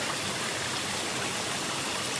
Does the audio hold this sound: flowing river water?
yes